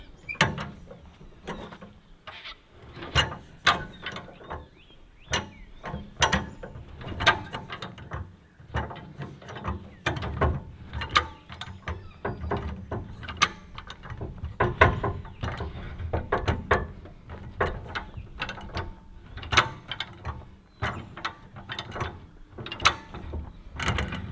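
A high lift jack is lowered and pulled away beside a vehicle, giving a long run of irregular metallic clicks and ratcheting clanks at close range with no talking.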